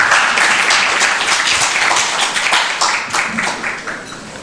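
An audience at a talk on U.S. diplomacy applauds in a dense burst of clapping that starts loud and slowly thins out over a few seconds.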